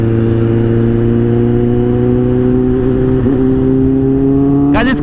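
A heavily modified, loud Kawasaki Z800 motorcycle idles with a deep steady engine drone, then revs sharply upward just before the end, close and loud with no talking.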